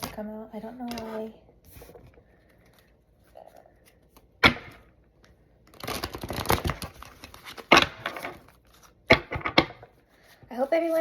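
Tarot cards are shuffled in several quick, crisp riffling bursts separated by short pauses, with a little quiet talking near the start.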